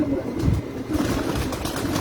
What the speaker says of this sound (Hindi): ये बटेरा कबूतर है जी माशाल्लाह।